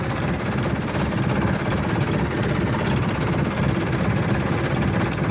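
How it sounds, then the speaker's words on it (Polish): Farm tractor engine running at a steady, moderately loud chug, continuous throughout with a slight rhythmic knock and vibration and no talking. "fajnie chodzi ten traktor moim zdaniem widzowie"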